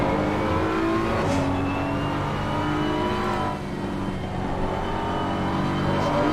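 A race car engine at the Kyalami circuit holds a smooth, sustained drone, fairly loud and steady for several seconds with slight swells as the car runs past.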